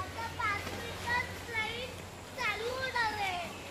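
Children play in water outdoors, their high, excited calls and shouts rising in short bursts at moderate distance, with general chatter around them.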